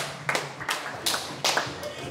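At a wedding party game show, a handful of distinct, evenly spaced hand claps ring out close by, about four sharp smacks rather than a full crowd, with people talking around them.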